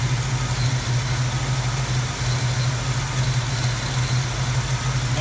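A Plymouth Duster idles at about 800 RPM with a steady, loud, low hum that holds level throughout, alone with no talking.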